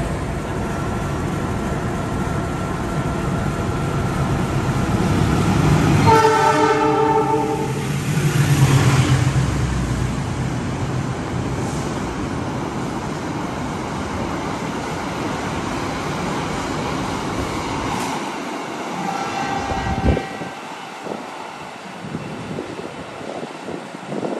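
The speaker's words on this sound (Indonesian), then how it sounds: "KA Argo Wilis siap melintas langsung di jalur 3 stasiun Gombong" The Argo Wilis passenger train roars straight through Gombong station in Indonesia at a steady, loud rumble with a brief horn blast, the noise slowly fading as it moves away.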